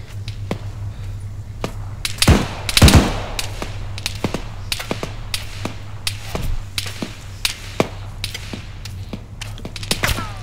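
Sustained gunfire in a Canadian army firefight aimed at a multi-story building: many sharp shots, some near and loud, others farther off, fired in irregular bursts over a steady low hum, with one heavy booming burst early on.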